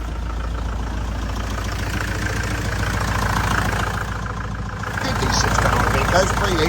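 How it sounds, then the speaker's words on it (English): A 6-ton Iveco truck's diesel engine runs steadily with a deep, constant low rumble and idle knock, close and loud throughout, with a voice speaking over it. "Right, 6 ton Iveco moving."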